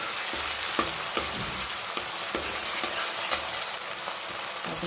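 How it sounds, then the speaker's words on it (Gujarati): Garlic and green chili paste mixed in a hot frying pan sizzles continuously, with a steady hiss broken by regular spatula taps and scrapes against the pan, close up and with no voices. "સરસ મિક્સ કરી દઈશું."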